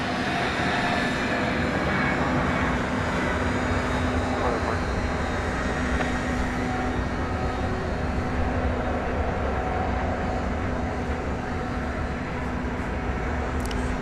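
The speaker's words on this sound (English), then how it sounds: "we have another MD-11, third in line" An MD-11 airliner arriving at DFW Airport from Atlanta, a loud, continuous, broadband engine roar with a steady low hum, sustained throughout without breaks.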